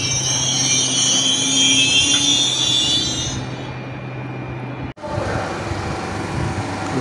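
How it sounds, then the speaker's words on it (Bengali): A train stands at Baruipara railway station on the Howrah chord line on a morning, about to depart; a steady rumble with a high hiss fades gradually, then a sharp break is followed by a continued low drone. "এখন এই ট্রেনটা এখন ছাড়বে দেখি"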